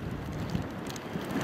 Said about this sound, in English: It's really windy. Hopefully you can hear me.